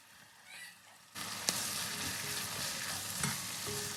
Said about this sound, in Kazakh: Етіміз жақсылап қуырылып жатыр, үстінен жуамызды қосамыз да,